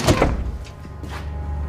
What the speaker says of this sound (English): They swing open the door.